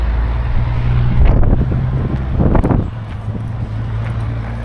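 Strong wind rushes past a truck, loud low buffeting noise over a steady engine drone, with a couple of stronger gusts before easing off.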